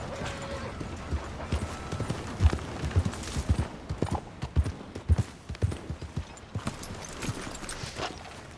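A horse gallops in Red Dead Redemption 2, its hooves pounding out a quick, irregular clip-clop rhythm close by, fairly loud, with a faint whinny and soft game ambience underneath.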